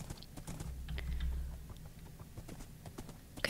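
Horse hooves clip-clop steadily in Minecraft, a modded survival game, with a quick string of soft, close hoof taps and no talk over them.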